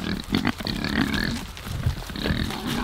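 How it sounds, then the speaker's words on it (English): Pigs grunting and oinking on a 14-acre property, a close, steady chorus of low snorts and squeals running throughout without any talk. "Hey, pigs."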